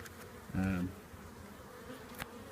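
Honey bees buzzing during installation into a hive, one loud close bee passing briefly with a strong drone, then a fainter hum of the swarm around.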